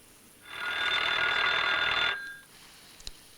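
An old telephone rings once in a single sustained electric bell burst lasting under two seconds, loud and close, then stops, followed by a brief click as the handset is lifted, in a Korean public campaign film.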